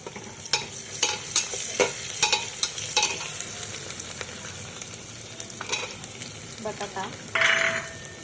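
Cauliflower and potato fry in a pan with ginger garlic paste, a soft steady sizzle broken by repeated scraping clacks of a spoon stirring, close and fairly loud, with a voice talking faintly at times.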